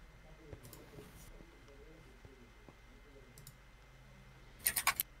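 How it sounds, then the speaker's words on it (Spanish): Rapid burst of about four sharp computer mouse clicks near the end, loud and close, while playing Minecraft 1.8.9 on a server, following quieter background with faint murmuring. "Le estoy dando clic y como que no entra."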